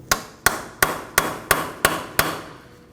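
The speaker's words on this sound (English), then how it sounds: "we need to use a hammer and punch directly in the center of the axle" Seven sharp metallic hammer blows on a punch set in the center of a Nissan Sentra front axle, evenly spaced about a third of a second apart, each loud and close with a short ringing decay.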